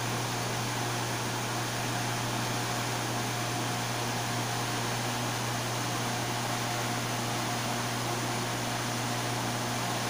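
An electric water pump runs after a bearing replacement, giving off a continuous, even hum with a steady motor drone underneath, loud and unchanging from start to finish.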